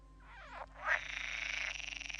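A green frog croaks alone in a quiet outdoor setting, giving a couple of rising calls and then a steady rapid pulsing trill that keeps going to the end, moderately close and fairly faint.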